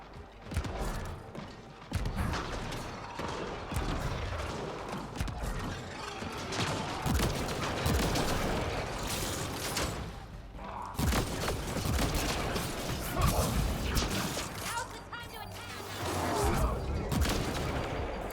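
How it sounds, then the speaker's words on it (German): Gunfire in the Mass Effect: Andromeda video game crackles in dense bursts alongside mechanical clatter and booms, loud and continuous across the scene. "der Schuss war jetzt aber heavy"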